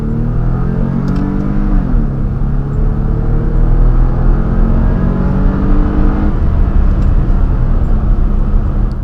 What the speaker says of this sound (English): it's still fun getting to let the engine breathe and really let those 6 cylinders sing